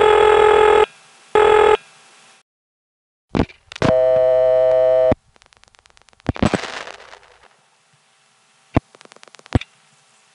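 Ringing on a 1970s step-by-step telephone exchange trunk call to Greenwood Lake, New York: two long ring bursts, then a dense ringing tone, scattered ticks and clicks of switching, and a final burst of clicks.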